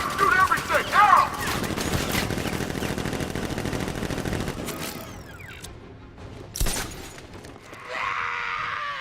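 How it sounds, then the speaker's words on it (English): Heavy gunfire in the Batman Arkham Knight video game, a sustained rapid volley of machine-gun shots for several seconds, then scattered impacts, a crash and a character's voice near the end. "Open fire! Shoot everything!"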